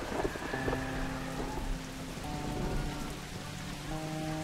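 Rain pattering steadily with a low, distant rumble of thunder in the video game The Last of Us, faint and continuous with some tonal music underneath.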